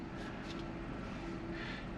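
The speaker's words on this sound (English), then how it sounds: "You hear that? Hear that whine? It sounds like the Jetsons." Faint, steady electric motor whine from a Tesla Model Y in reverse, a thin sustained tone over a low hum, continuous and quiet.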